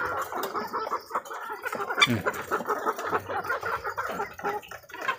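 A flock of RTL layer hens on a poultry farm clucking and chattering continuously up close, with overlapping calls and a few sharper squawks.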